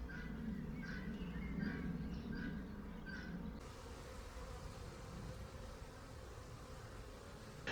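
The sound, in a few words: honey bees buzzing and flying outside the hive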